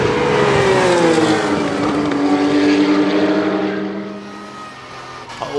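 Porsche race cars at speed on the Dijon-Prenois circuit, a loud engine note sweeping past and falling away as the cars pull off, with a second car's drone following close behind.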